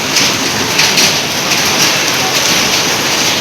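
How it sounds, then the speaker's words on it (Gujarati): Steady, dense rain hisses continuously and loudly at close range, a broadband wash with no breaks and no voices over it. "વરસાદ ચાલુ થઈ ગયો છે"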